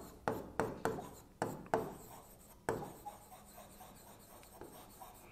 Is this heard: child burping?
no